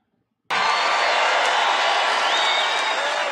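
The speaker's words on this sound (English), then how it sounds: "They're just applauding him getting through those 3 words." An audience at a live political rally bursts into loud applause and cheering after a moment of silence, a dense, sustained roar that holds steady at full strength.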